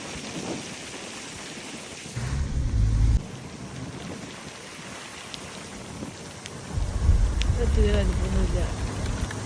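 Light drizzle falls outdoors near the Sholayar dam on a cool day, a soft steady patter under bursts of low wind-like rumble.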